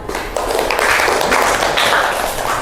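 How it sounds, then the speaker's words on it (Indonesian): A classroom of students claps together in a dense, continuous patter of hands, loud and close, sustained for a few seconds. "Tepuk tangan untuk Bianca"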